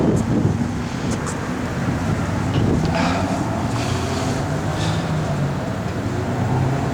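A strong cold wind rushes steadily across the microphone outdoors beside a 1972 Chevrolet Chevelle SS, a loud, constant low roar with gusty swells and no talking.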